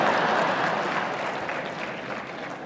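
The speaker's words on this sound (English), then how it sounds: "you can clap if you wish." A conference audience at a closing keynote breaks into applause, a dense wash of many hands clapping that starts loud and slowly fades, with no speech over it.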